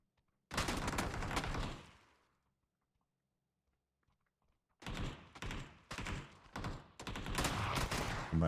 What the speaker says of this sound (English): Fight between the shotguns.